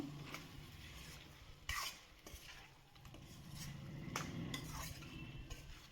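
A spoon stirs coriander and chili powder through chicken in a pan, with close scraping and clinks against the metal and a faint sizzle underneath, in irregular strokes and no talking.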